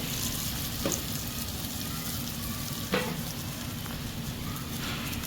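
Dahi bhalla fritters fry in a pan of oil with a steady, busy bubbling crackle, broken by two brief clicks as pieces are dropped in or nudged.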